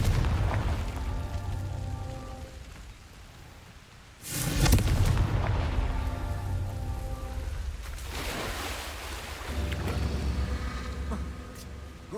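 Confringo spell explosions in the video game Hogwarts Legacy, a sudden loud blast with a deep rumble that lingers and fades over several seconds, followed by another swelling boom over steady game background sound.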